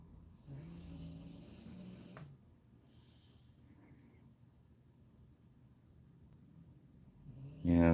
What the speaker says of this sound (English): Dog's snoring well tonight.